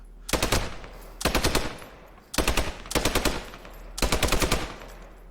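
Five sharp bursts of automatic gunfire from the World War II shooter Post Scriptum ring out in rhythmic, evenly spaced volleys, each a rapid loud rattle separated by short gaps.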